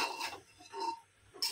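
Potatoes with salt are stirred in a pan for pav bhaji, giving soft scraping and clinking sounds from a utensil in irregular strokes, close and fairly quiet.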